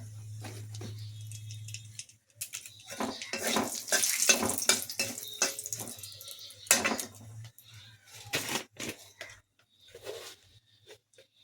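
Bay leaf, dried chilli and cumin tempering in hot white cooking oil, heard as a faint sizzle under close clattering of a utensil against the pan, with sharper knocks and scrapes throughout.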